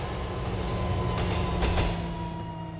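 A subway-style train in Liberty City from the video game GTA 4 rumbles along with a steady droning hum and a couple of brief metallic squeals, loud and close, without talk.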